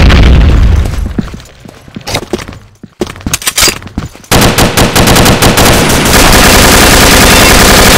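In a first-person shooter video game, loud rapid bursts of automatic gunfire are followed by a heavy grenade blast. Dense, sustained firing then fills the rest of the stretch at close range.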